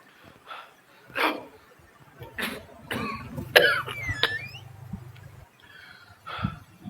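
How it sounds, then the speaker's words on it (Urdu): A man having an asthma attack coughs repeatedly in close, separate, harsh bursts spread over several seconds, with wheezy breaths between them. "کافی دیر سے سن رہا ہوں آپ کھانس رہے ہیں۔"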